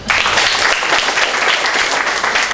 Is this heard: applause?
yes